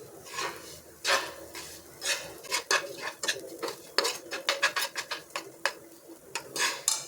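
A spoon stirs a crushed green pigeon pea mixture seasoned with coriander-cumin powder and garam masala in a pan, giving close, irregular clinks and scrapes of metal against the pan with no talking.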